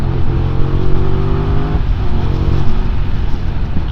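A QJ Motor motorcycle accelerates hard, its engine note climbing and then dropping at a gear change before building again, loud and close with no talking.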